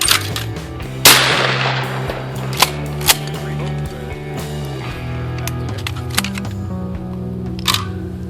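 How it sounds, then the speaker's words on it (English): A shotgun fired at clay targets outdoors during a Thanksgiving gathering, with one loud close blast followed by a few sharp clicks and thuds over a background hum. "Okay, you're ready, Mark. Pull"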